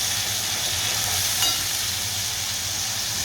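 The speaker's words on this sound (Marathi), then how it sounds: "टमॅटोची ग्रेव्ही मी तेलामध्ये फ्राय करून घेते चांगली." Tomato gravy for paneer butter masala fries steadily in hot oil with a few cumin seeds, giving a loud, continuous sizzle close by with no talking.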